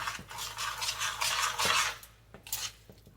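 Halushki, cabbage and noodles in the Pennsylvania Dutch style, being tossed in a pan, a close run of scraping and rubbing utensil strokes against the pan, a brief pause, then a few more scrapes.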